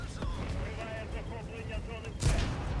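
Enemy cannon fire in a war video game, a deep booming blast near the end over a continuous low rumble of battle.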